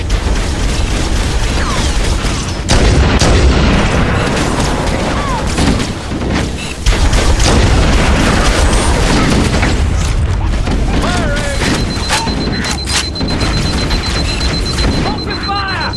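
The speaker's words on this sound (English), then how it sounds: "Those stationary guns are gonna tear us to pieces!" Gunfire and heavy booms from stationary Covenant gun emplacements in Halo: Combat Evolved, a loud, dense barrage of shots and blasts running continuously throughout, with voices calling out over the battle.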